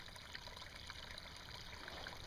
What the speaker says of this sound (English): you can see it's a pretty good flow of water that I've got coming